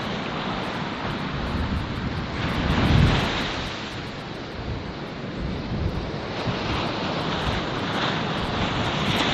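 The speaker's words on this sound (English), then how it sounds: "It's a little windy" Cool, breezy evening air outdoors, a steady wind rushing and buffeting a microphone throughout, with a brief stronger gust near the three-second mark and no talking.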